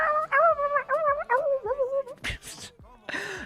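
A person's voice imitates the whimpering, yelping gibberish of the cartoon dog Courage the Cowardly Dog, a close run of wavering, pitch-bending whines followed by a few breathy bursts.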